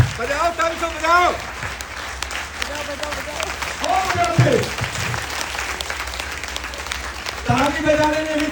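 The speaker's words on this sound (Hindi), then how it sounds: "ताली बजाने में भी दम होता है" An audience claps together at a live talk in a large room, with steady, loud, dense applause, while someone speaks over it now and then.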